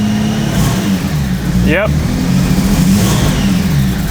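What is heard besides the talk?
Toyota Land Cruiser engine revving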